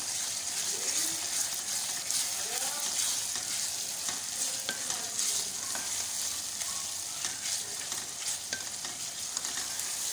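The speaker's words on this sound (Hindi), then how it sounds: "लहसुन डाल के ना 5 मिनट में भूनती हूँ।" Garlic sizzles and fries in a karahi for chicken karahi, with a continuous crackling hiss broken by scraping stirs of a spoon against the pan, heard up close.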